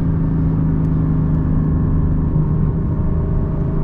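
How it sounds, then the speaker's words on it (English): A 2023 Porsche 718 Boxster Spyder with a DeMan 4.5 engine drones under power from the cabin, giving a close, steady, loud mid-pitched engine note with firm low rumble across the short stretch. "you just have a unhinged engine behind you"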